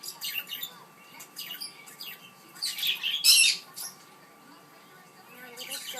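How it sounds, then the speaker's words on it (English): A flock of pet birds in a home, including a baby bird, giving scattered high chirps, tweets and one louder squawk burst, fairly faint and intermittent against a quiet room. "Oh, there's a baby birdie."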